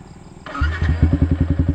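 Motorcycle electric starter whirs briefly with the clutch pulled, then the engine catches and settles into a close, even, pulsing idle.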